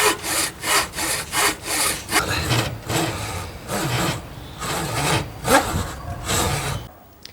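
A handsaw cuts into a wooden guitar neck along the fretboard cut-off line, steady back-and-forth strokes rasping close and loud, then slowing to a few uneven strokes before stopping.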